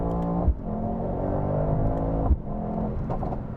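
A Mercedes-AMG GT63 4Matic in sport mode drones loudly on a downshift, its engine note rising and holding with brief mechanical clunks at the shift points, heard from inside the cabin.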